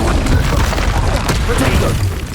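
An explosive Confringo spell blast in Hogwarts Legacy, a loud, dense burst of booming and crackling that fills the short moment.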